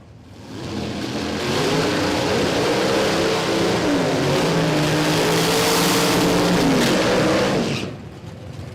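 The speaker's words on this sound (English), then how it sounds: "Side-by-side burnouts here for Simon Isherwood and Tony Wyatt." Two drag racing cars doing side-by-side burnouts at a Queensland drag racing championship, a loud sustained engine roar that builds, holds with revving tones and screeching, then cuts off sharply.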